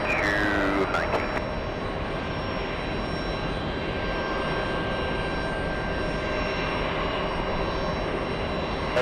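A JetBlue Airbus A320 jet heading to Terminal 5 gives a steady, loud, continuous engine roar that holds evenly throughout with a faint whine on top.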